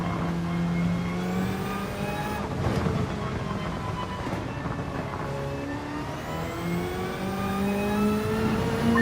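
Lamborghini race car in Gran Turismo 7 with its engine screaming through the gears, pitch climbing and dropping on shifts, loud and continuous for the whole stretch.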